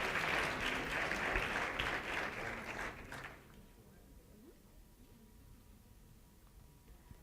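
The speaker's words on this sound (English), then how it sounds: "All right, let's give a round of applause to the presentation." Applause from an audience after a student project presentation, steady dense clapping for about three seconds that then stops abruptly, leaving quiet room tone.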